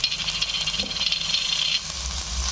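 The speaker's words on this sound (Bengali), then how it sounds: "এবার আমি এতে আদা বাটা রসুন বাটা দিয়ে দিলাম" Ginger and garlic paste sizzling with browned onions in a frying pan while cooking chana dal with coconut milk, a steady loud hiss and crackle of frying that runs throughout without a break.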